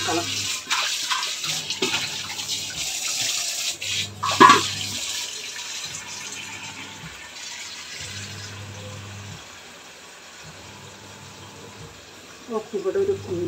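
Drinking water runs from a tap into a container at home, a steady close pour with a few clunks at the start, while a low rhythmic hum pulses underneath and someone speaks briefly.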